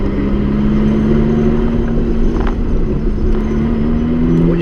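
Ferrari F430 or Porsche GT3 sports car held in second gear on an autocross course, a steady loud engine drone with a rising pitch as it accelerates, continuous and close with no talk.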